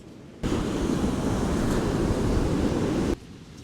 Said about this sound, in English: I'm not surprised with this surf.